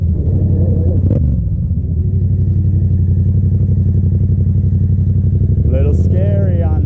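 A Yamaha FZ-07 motorcycle is ridden hard during a wheelie attempt, its engine a loud, close, continuous rumble, with the revs lifting briefly near the end amid wind noise.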